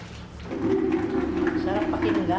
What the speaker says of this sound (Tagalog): Yung tunog ng water.